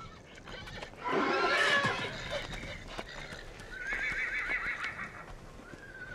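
A wild mustang neighs loudly with a long whinny, followed by a second shorter call, amid hoof clops and rustling nearby.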